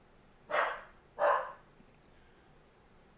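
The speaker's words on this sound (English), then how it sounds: "I don't know what he's barking at" A dog named Max barking indoors, two sharp barks about half a second apart, then quiet room tone.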